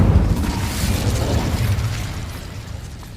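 The Incendio fire spell goes off in the video game Hogwarts Legacy as a rushing, fiery burst with a deep rumble, loud at the start and then fading steadily over a few seconds.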